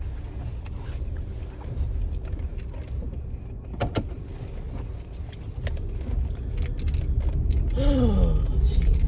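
A car rolls into a parking space with a steady low engine and road rumble throughout, close and moderately loud, with faint tones and a brief rising squeal near the end.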